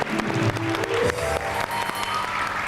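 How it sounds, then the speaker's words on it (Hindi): A studio audience breaks into a short, loud burst of clapping for a performing artist, dense and close, with no talk over it. "मतलब एक तालियां"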